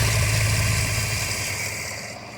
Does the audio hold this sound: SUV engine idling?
yes